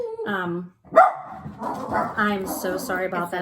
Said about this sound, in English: My dogs see somebody outside and they think they have to bark.